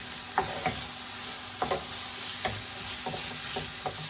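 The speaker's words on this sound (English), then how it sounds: "Add the celery, mix that in." Chopped celery being stirred into sizzling vegetables in a pan for lasagna, with a steady fry and hiss under a few distinct scraping spoon strokes, close and alone.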